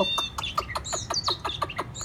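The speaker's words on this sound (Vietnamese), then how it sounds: "Khi con chim nó say sưa nó lắc lư nó hót tóc tóc tóc tóc tóc tóc" A caged hwamei songbird sings up close and loud, with a rapid, regular run of about ten sharp, ringing notes over a low background rumble.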